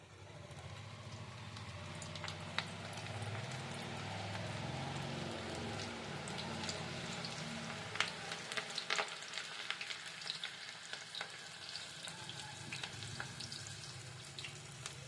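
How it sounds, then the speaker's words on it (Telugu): Onion pakoda batter dropped into hot oil in a deep kadai, a dense rain-like bubbling sizzle that holds steady over fifteen seconds with scattered crackles, a low hum fading out partway, no speech. "ఇప్పుడు మనము పకోడాని వేసుకుందాం బాండీలో"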